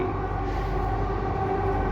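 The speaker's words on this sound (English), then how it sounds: "Look at this, guys, another metro passing through." A Delhi metro train rumbles past nearby in a continuous, fairly even roar, with a steady tonal whine riding over the low rolling noise throughout.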